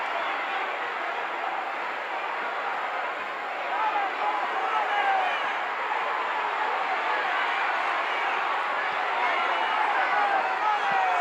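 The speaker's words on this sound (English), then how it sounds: "that crowd encourages him all the way" A wrestling crowd cheers and roars continuously at an old-school NWA studio show, a steady wash of voices that holds loud and even throughout.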